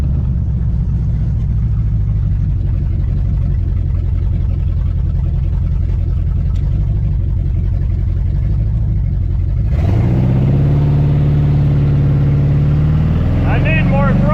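A 421 V8 in a 1966 Pontiac 2+2 convertible barn find idles with a heavy, lumpy rumble, then the revs jump and the engine roars louder and higher, with people talking over it.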